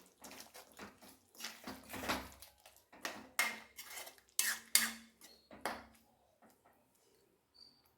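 Chicken being stirred in a cooking pot, with a run of scraping, clinking utensil strokes against the metal, fairly close and moderately loud, fading to a few light knocks toward the end.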